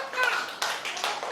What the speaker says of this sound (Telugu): మోక్షిత క్లాప్స్.